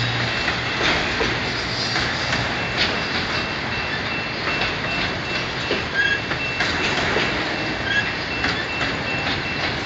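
BNSF locomotives haul a car hauler train past, a steady loud rumble of rolling wagons with faint rhythmic clicks and a few wheel squeals running throughout.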